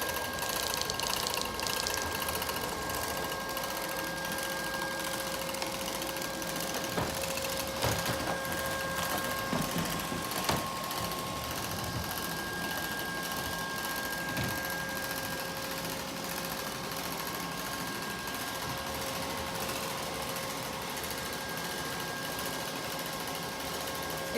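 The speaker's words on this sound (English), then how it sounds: "It actually sounds a little noisy right now, and I think that's because I need to replace this little spinning mechanism underneath" A Neato Botvac robotic vacuum cleaner, running noisily because of a worn spinning brush underneath, gives a continuous, faint mechanical whir with intermittent clicks and knocks, alone without speech.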